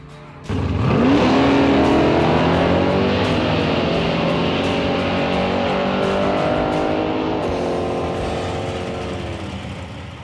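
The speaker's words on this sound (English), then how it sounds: "I'll go into the first light and then just put in neutral and just give it a rev to clear the plugs after the burnout" Mercury Comet drag car engine, held in neutral after a burnout, revs hard at the start line. One loud, sustained roar climbs quickly, holds for several seconds, then slowly tails off, close by and alone.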